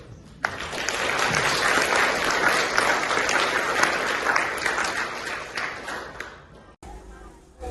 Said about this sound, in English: You can still give him a round of applause